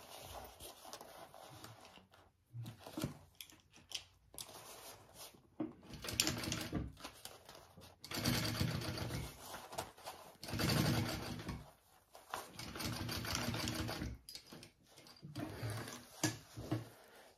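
Sewing machine top stitching a tag along bag, running in short bursts of steady mechanical whirring separated by brief pauses, fairly close and moderately quiet.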